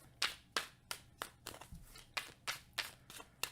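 About ten quiet, crisp riffling bursts of cards being shuffled, evenly spaced in a steady rhythm, close up with no talking.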